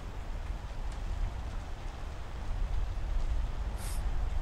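Steady, dense rain ambience plays as a sound effect during a Call of Cthulhu tabletop role-playing session, an even hiss of downpour that holds at a constant level throughout, with no voices over it.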